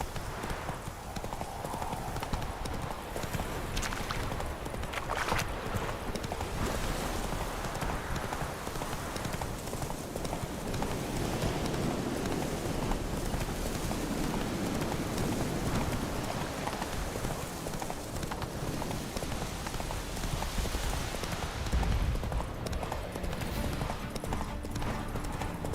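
A video game horse named Roach trots with a steady clip-clop of hooves that runs throughout, over a dense wash of rain-like ambience and a few faint game sounds.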